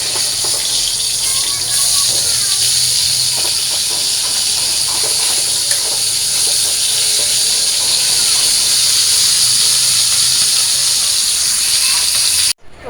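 Meni fish frying in hot oil in a pan gives a steady loud sizzling hiss with crackles, close and unbroken for about twelve seconds before it suddenly cuts out.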